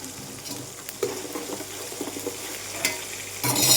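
Sesame seeds tempering in hot oil with asafoetida while making Surati vati dal khaman; a soft, steady sizzle is broken by stirring scrapes, swelling into a louder fry near the end.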